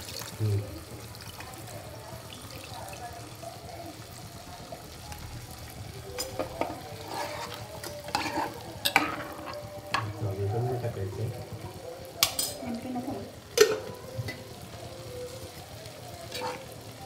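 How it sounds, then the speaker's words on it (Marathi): Pomfret frying in a pan as tamarind water goes in: a soft background sizzle broken by scraping stirs and splashy clinks that grow busier partway through, with quiet talk at times. "पापलेट चांगले हलवून झाले की चिंचेचं पाणी घालायचं."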